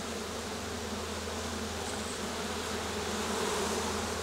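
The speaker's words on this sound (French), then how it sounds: "Il y a énormément d'abeilles. La population est incroyable." Honeybees at a full, crowded hive make a dense, continuous buzz, steady and close with no pauses.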